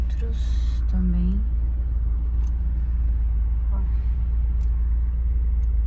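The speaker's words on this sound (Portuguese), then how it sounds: "Fazendo um teste no carrito." A car is test driven at a vehicle inspection centre in Porto, Portugal. A low engine rumble drones steadily and fairly close, with a few faint background noises and no clear talk.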